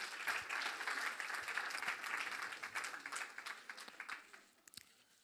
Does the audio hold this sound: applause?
yes